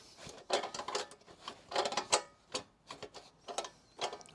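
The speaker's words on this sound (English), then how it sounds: "it looks like it's just needs tightening now" A ratchet tightens a part during a build, giving short bursts of rapid metallic clicking close by, repeated in an uneven rhythm with brief pauses between strokes.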